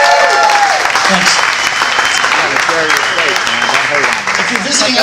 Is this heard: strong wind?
no